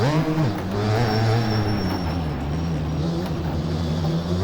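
A dirt bike engine in MX Bikes, at a Unadilla motocross track, revs steadily and loudly under light throttle, then pulls harder on acceleration, its droning note holding close and continuous with no talk.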